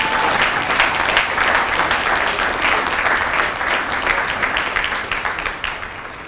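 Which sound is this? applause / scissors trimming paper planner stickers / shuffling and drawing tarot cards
applause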